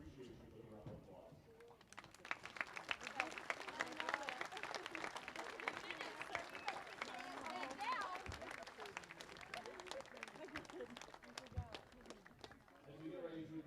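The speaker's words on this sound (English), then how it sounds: "Please join us in showing our appreciation with a round of applause." A football stadium crowd applauds veterans being recognized before a game, dense sustained clapping swelling and holding for several seconds, heard from a distance with some voices mixed in.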